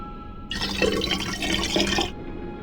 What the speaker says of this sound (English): I'll just pour in a bit of water.